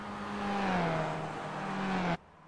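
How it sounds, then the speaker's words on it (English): Race car engines with sequential gearboxes in the iRacing video game at Watkins Glen hold a loud, sustained whine that slowly drops in pitch, then cut off abruptly to a quieter background hum. "And you can hear these engines."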